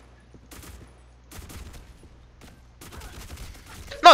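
Gunfire in the online shooter Black Squad comes in several sharp bursts separated by short pauses during a clan match, moderately loud against a quiet background.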